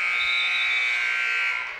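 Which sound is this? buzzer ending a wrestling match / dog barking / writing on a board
buzzer ending a wrestling match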